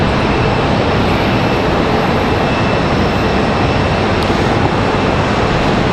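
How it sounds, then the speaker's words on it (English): Jet airliners push back and taxi at Charlotte Douglas airport, a loud, steady broadband engine roar that holds evenly throughout with a faint high whine above it and no talk. "planes pushing back here and moving around"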